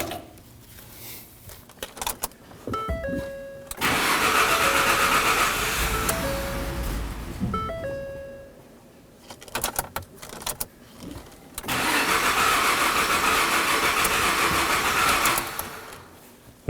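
With the fuel pump control module unplugged, a 2009-2014 Ford F-150 3.5L V6 cranks with starter chatter, roars into running, then dies, and the cycle repeats in a second loud burst.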